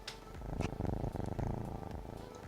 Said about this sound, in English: Do you guys hear that little purr?